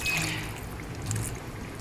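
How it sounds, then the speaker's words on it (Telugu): Water trickles and pours into a pot of fish curry on a home stove, a soft, fairly quiet stream heard close with no talking. "ఇంకా కొంచెం వాటర్ పోసుకోవాలండి, చూపిస్తాను నేను"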